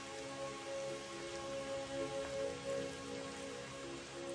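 Rain pours steadily past a balcony in a continuous, even hiss of drops striking surfaces, with no voices and a faint tonal hum underneath.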